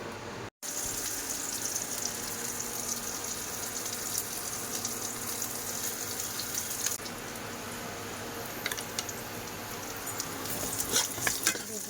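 Onions frying in a pan with steady, continuous sizzling throughout, occasional stirring scrapes and clicks, close and moderately loud with no talking.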